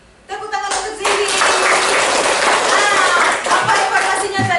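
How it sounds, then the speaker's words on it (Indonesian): A classroom of students claps for a classmate after a presentation. The loud, dense applause starts abruptly and carries on steadily, with children's voices calling out underneath. "Tepuk tangan untuk Zizi."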